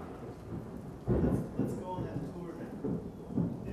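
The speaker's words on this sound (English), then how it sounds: "I'm sorry, it started raining." Rain begins falling outdoors on a ranch while low rumbles of thunder roll through, faint and distant, with quiet voices underneath.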